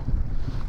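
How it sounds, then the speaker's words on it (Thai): Strong wind at a viewpoint by Khun Dan Prakan Chon Dam in Nakhon Nayok buffets the microphone in a brief, loud, low rumbling gust. "อันนี้เสียงลมอาจจะแรงนิดนึง นะครับ"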